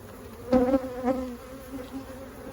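Honey bees hover around an opened hive during a summer honey harvest, with two close buzzing passes early on and fainter humming afterward, short and fairly quiet.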